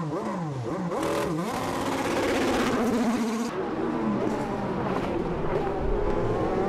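IndyCar race cars roaring through the Grand Prix of Houston street circuit, engines rising and falling in pitch as they accelerate and pass, loud and continuous with faint commentary underneath.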